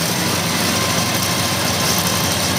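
A 1969 Chevrolet Camaro Z/28 street-legal drag car idles steadily, a loud, continuous low engine rumble close by with no talk over it.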